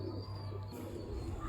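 Jonsiri pigeons coo softly in a short, low burst against a steady background hum, close but faint, with no talk.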